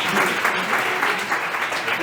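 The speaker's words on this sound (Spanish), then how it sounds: "Un aplauso." Applause from an audience at a school students' conference in Madrid, a dense steady wash of clapping lasting about two seconds with faint voices mixed in.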